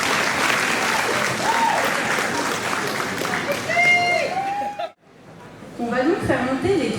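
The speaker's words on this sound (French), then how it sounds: "on applaudit plein fort les accessoiristes" Loud, steady audience applause for the prop crew at a cosplay event, a dense wash of clapping with whistles and cheers rising near the end, a brief sudden drop to near silence, then clapping and whoops resuming.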